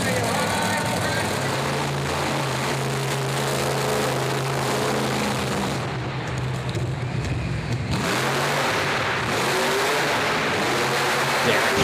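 A monster truck engine roars and revs continuously while the truck spins a donut on a dirt track at a Monster Truck Nationals event in Corbin, Kentucky, loud and steady throughout, with a commentator's voice mixed in.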